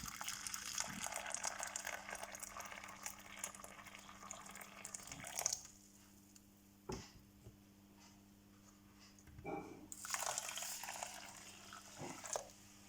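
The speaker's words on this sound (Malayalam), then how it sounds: "ഇനി നമുക്കിതിലേക്ക് തിളച്ച വെള്ളം വേണം ഒഴിക്കാൻ" Boiling water poured onto a cup of couscous in a bowl, a gushing splash that runs for several seconds, stops, then returns in a shorter second pour, close and clear.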